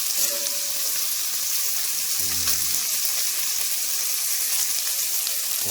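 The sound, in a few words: bacon sizzling in a frying pan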